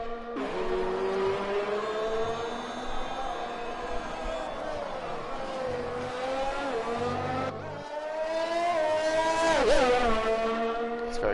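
Racing cars, a Ferrari among them, drone past in a racing video game at the Australia track, their engines holding a steady whine that rises and falls, while a commentator talks over them throughout.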